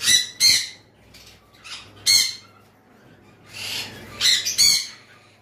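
A pair of blue conure parrots give several sharp, harsh squawks and shrill calls in short bursts, close and loud against a quiet background.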